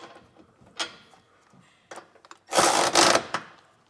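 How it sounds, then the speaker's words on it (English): A 3/4 inch socket snugs down flange nuts while a trailer hitch receiver is mounted on a 2024 Chevrolet Equinox. Short ratcheting bursts are followed by a louder, longer rasp near the end, close and with no talk. "Come back with a 3/4 inch socket and snug all these down."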